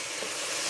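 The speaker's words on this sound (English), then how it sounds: "You hear that sizzle." TennPride sausage with a few squirts of Louisiana hot sauce sizzles in a skillet, a dense, steady, close hiss of frying with no talking.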